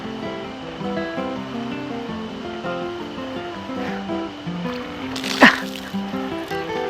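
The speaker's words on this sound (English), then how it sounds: "We got water. Water fresh from the ground." Water gushes from a manually operated PVC well pump, a steady rushing, splashing flow that carries on throughout, close and fairly loud, with a brief sharper splash partway through.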